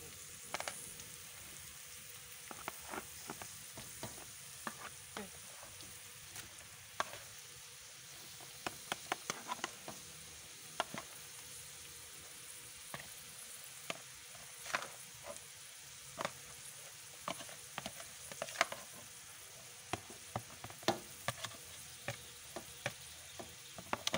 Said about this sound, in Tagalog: Gigisa na siya.